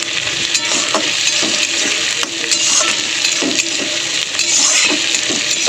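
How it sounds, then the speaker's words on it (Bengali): Tomatoes and onions with torn bay leaves frying in a pan, a steady close sizzle with scattered scraping stir strokes and light utensil clinks, no talking. "টমেটো আর পেঁয়াজটা আগে আমি ভালো করে ভেজে নেব একটু লাল করে।"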